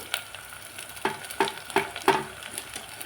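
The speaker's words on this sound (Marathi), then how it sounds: "पत्ताकोबी ही छान तेलामध्ये परतली गेलेली आहे" Shredded cabbage sautés in hot oil with onion in a pan for Chinese khichdi, with a steady close sizzle and several sharp bursts of scraping and stirring about a third of a second apart, with no voices.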